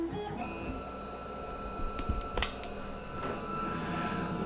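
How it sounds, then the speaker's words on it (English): With its belts removed, the Y-axis stepper motor on a Shapeoko Pro XXL CNC machine stutters, giving a steady electrical whine with sharp ticks and a brief buzzing burst partway through, fairly quiet and close. "I'm going to initialize the machine, and you should see this stepper motor stutter."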